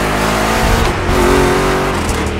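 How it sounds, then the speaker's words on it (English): Chevy big-block V8 race car engines roar loud and close in The Crew Motorfest racing game, a steady sustained drone that swells slightly as the cars push through rough turns, with no talk over it. "Two Chevys, two big blocks, but only one winner."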